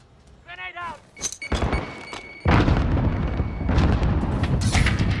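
A grenade blast in Call of Duty: Modern Warfare (2019) arrives as a loud, sustained burst of rumbling noise after a short voice call and a brief thump, with the roar continuing to the end.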